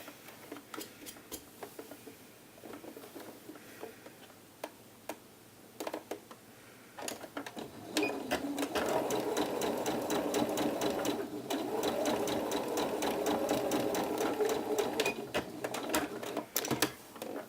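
A sewing machine runs basting stitches on a blouse sleeve: scattered ticks and short bursts at first, then a steady, close mechanical whir that continues with brief pauses and clicks.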